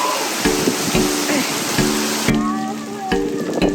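Steady rain falls outdoors in Hawaii in winter, a dense even hiss with a few short knocks and rustles over it, fairly close and loud, with no talk.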